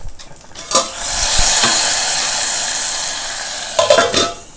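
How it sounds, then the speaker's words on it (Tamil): Mustard seeds temper in hot coconut oil for a wheat rava pongal: a loud, steady sizzle and hiss with a few metallic clinks of a pan and spoon at the start and end. "இது இறக்கிட்டு கொஞ்சோண்டு தேங்காய் எண்ணெயில் கடுகும் தாளிச்சு கொட்ட போகிறேன்."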